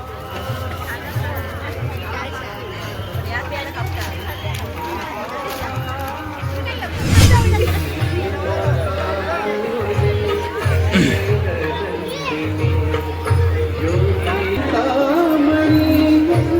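A large crowd chatters at a village temple fair in Devgad, a steady close hubbub of many voices with louder individual talk, a sharp bang midway and busy movement throughout.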